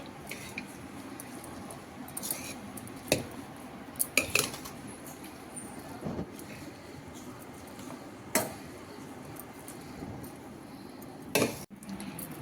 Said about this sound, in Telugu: ఇలా అన్నీ వేసేసుకొని మంచిగా మిక్స్ చేసేసుకోవాలండి.